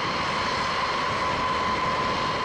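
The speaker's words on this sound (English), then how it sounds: "Explosive charges are then used to fire up the engines" A B-52 bomber's military jet engines, fired up by explosive cartridge charges, produce a loud, steady, close roar with a sustained whine running over the rumble, with no pause or change in level throughout.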